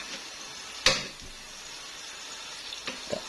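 Frozen, previously half-fried food sizzles in a pan with a soft, steady hiss of hot oil, broken by a sharp clack and a few small pops and knocks, fairly quiet and close.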